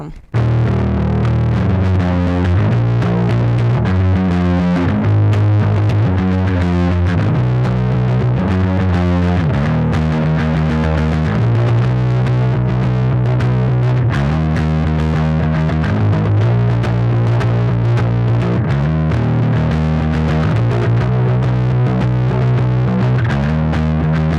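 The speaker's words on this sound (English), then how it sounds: "I really like the opening riff of that song." A heavily distorted electric guitar plays a chugging, repeating riff with effects, loud and continuous throughout, no voices.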